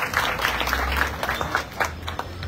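A crowd at a slam poetry ceremony applauds the winner with dense, loud clapping and scattered sharp claps, sustained across the moment before fading slightly.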